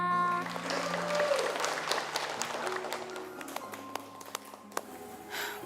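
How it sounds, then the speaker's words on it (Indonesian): Parents in the audience applaud at an elementary school's annual stage performance. Dense clapping mixes with background tones at first, then thins into scattered, isolated claps as it fades. "Tepuk tangannya mana?"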